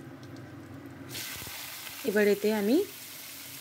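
Hot mustard oil in a kadai bursts into a loud sizzle as whole cumin and green chillies go in, then keeps frying steadily while someone briefly speaks over it.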